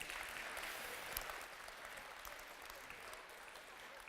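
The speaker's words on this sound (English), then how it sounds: "Can we give the pandas a round of applause?" Audience applause at a talk, a steady, broad wash of clapping held at even strength throughout, with one brief louder burst near the start and no speech.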